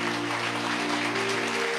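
A church congregation at a Catholic preaching service applauds continuously, its steady clapping layered over a sustained organ or keyboard tone.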